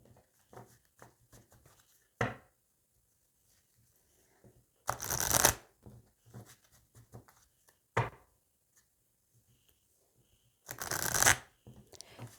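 A deck of tarot cards is shuffled and cut in a quiet room, with short riffling bursts at intervals, two longer flutters among scattered light taps and card slaps.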